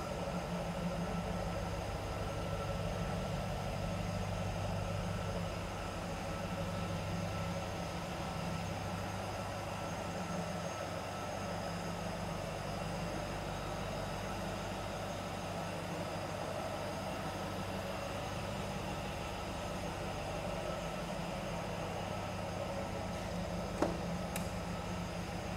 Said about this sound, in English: It's got a really nice exhaust noise.